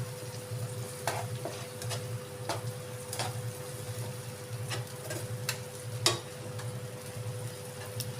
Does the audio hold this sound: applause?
no